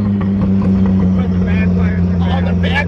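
A modified car engine with no exhaust drones loud and steady, its deep rumble filling the space with rough vibration, and a voice breaks in briefly over it.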